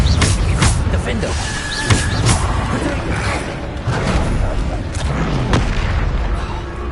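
Bombarda blasting spell explosions from the video game Hogwarts Legacy, heavy booming blasts recurring amid dense, continuous battle noise with mechanical clatter, loud and close throughout.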